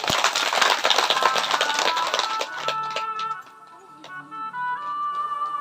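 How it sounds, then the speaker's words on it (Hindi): Audience applause at a Shiv Purana katha: dense, crackling clapping for about two and a half seconds that fades out as sustained devotional instrument tones take over. "आपके लिए भी जोरदार तालियां।"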